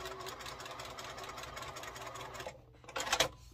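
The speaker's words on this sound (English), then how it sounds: "let me finish sewing this" Domestic sewing machine stitching a seam on a quilt block, a close, steady mechanical whir for about two and a half seconds, then a short pause and a brief final burst of stitching.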